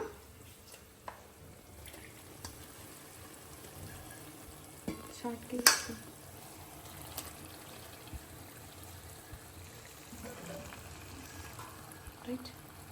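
Marinated chicken frying in gongura-flavoured oil in a home kitchen, a steady low sizzle with occasional stirring clatter and a brief louder scrape near the middle, no speech.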